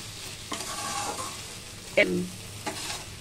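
Drumstick leaves and potatoes frying in a pan give off a steady low sizzle, with a few soft stirring scrapes and one brief sharper clink near the middle, and no one speaks.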